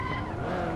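Hot Wheels racing car braking hard with a sustained tire squeal and skid over steady engine noise, loud and continuous for under a second.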